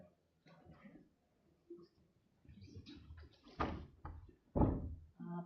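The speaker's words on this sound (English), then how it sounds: "if I close the door." Door at a school board meeting being closed, ending in a couple of solid thumps after scattered rustling and shuffling in a quiet room.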